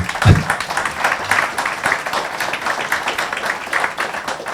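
An audience at a banking compliance and fraud round-table conference claps for the panel guests, a steady, moderately loud spread of applause lasting the whole stretch with no voices over it.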